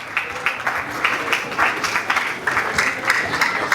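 Applause from an audience at a school literary competition launch, a sustained patter of many hands clapping with rhythmic surges, fairly close and without talk.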